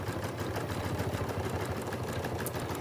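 A Janome Memory Craft 9850 sewing machine doing free motion quilting, a continuous fast rhythmic whir heard close and steady throughout, quiet, with no talk.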